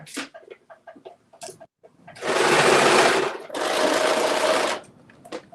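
A serger sewing machine with a dulling cutter runs in two sustained loud whirring bursts, preceded by a few short stitching taps, close by with no speech.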